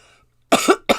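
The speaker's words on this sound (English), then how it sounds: "I'm going to block the mic a minute so I can cough" A person coughs twice in quick succession after aspirating tea: a loud, close, rough burst followed by a shorter second cough, with a quiet pause before them.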